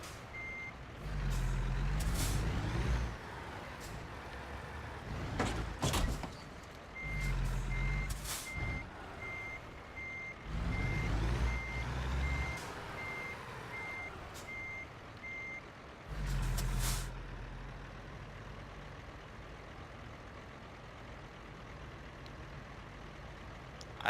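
American Truck Simulator truck pulling two trailers, its reversing alarm beeping in steady runs while backing up, with engine rumble and air brake hisses between the bursts.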